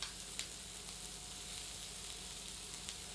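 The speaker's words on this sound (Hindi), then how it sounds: "अनियन को फ्राई करके गोल्डन कर लेते हैं।" Onions fry in oil for a chicken vindaloo with a faint, steady sizzle and a few soft crackles, heard alone.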